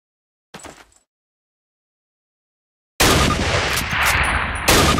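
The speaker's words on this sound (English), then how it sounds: "Now fire 2 rounds at your target while aiming down your sight." Rifle fire at a training target in Call of Duty's Camp Toccoa boot camp: one short, sharp shot after silence, then a longer loud blast with rumbling decay.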